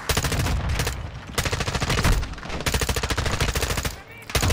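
Rapid automatic gunfire rattles in near-continuous bursts through a Call of Duty: Modern Warfare II campaign battle, loud and close, with a short lull near the end.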